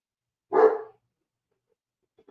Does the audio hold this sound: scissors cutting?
no